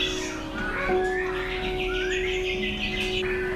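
A bird calls with bright, rising and sliding whistled notes in repeated phrases, close and clear over a steady low background tone and faint ambient noise.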